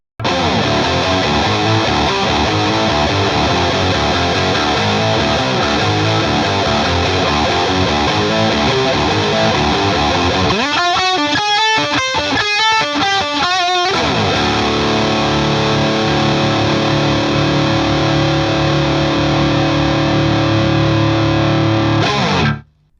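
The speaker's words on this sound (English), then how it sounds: "Let's see how they sound through the third channel of the Diezel VH4 with a lot of gain." Heavily distorted electric guitar, a Les Paul-style Epiphone or Gibson, chugs and rings out loud through the high-gain third channel of a Diezel VH4 amp, with a brief choppy muted passage midway before sustained chords return.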